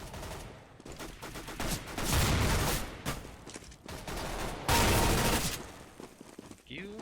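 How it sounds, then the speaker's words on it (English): Sawed-off shotgun fire in Counter-Strike: Global Offensive, a dense run of loud gunshot blasts in bursts from a game mix, with a short voice near the end. "Sawed-off shotgun."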